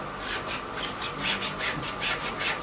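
A wooden strip is cut by hand while building a Ganpati makhar decoration, giving a steady run of about ten quick, evenly spaced rasping saw strokes, close and moderately loud, with no talking.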